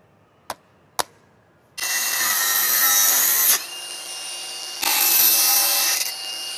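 Power tool cutting the rusted mounting bolts off an air conditioner outdoor unit's compressor, preceded by two sharp knocks, then a loud sustained grinding whine in two long bursts with a brief pause between them.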